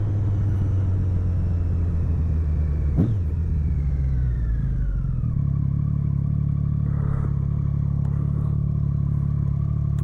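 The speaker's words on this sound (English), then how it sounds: "the induction sound of the Street Triple, which can become a bit piercing after a while" Recorded from a helmet on a Triumph Street Triple at night: a loud steady engine rumble with a high induction whine that glides downward as the revs fall, then settles into an even drone.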